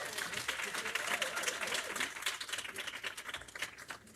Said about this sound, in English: Let's give our fearless leader a round of applause.